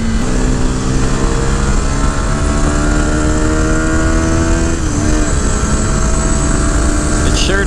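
A CFMOTO 700 motorcycle accelerates hard, its engine a loud, close, steady drone with rising tone through the gears and a brief dip near the end as it shifts.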